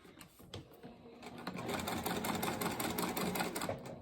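A sewing machine stitches a coffin-shaped wallet, starting with a few slow, separate needle strokes and then settling into a rapid, even, rhythmic whir, fairly quiet and close.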